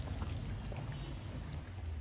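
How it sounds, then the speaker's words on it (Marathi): Heavy rain pours down outside a studio, a loud, steady wash of hiss and patter that holds unbroken from start to finish with no voices. "पाऊस खूप लागलाय त्यामुळं थोडं थांबलो इथं।"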